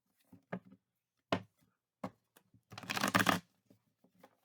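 Tarot cards being shuffled by hand, several short quiet riffles and taps followed by a longer, louder flurry of cards fanning together, then a few soft clicks, close up in a quiet room.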